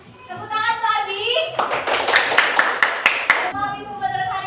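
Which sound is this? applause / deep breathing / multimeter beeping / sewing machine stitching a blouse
applause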